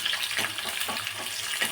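Onions sizzle in hot oil with peanuts, green chilli and curry leaves for bisi bele bath, a soft, steady crackle close by with faint stirring and no voices.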